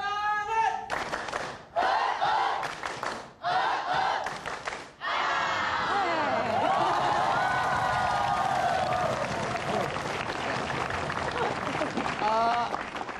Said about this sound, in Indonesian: Oh, tepuk semangat. Tepuk semangat, coba.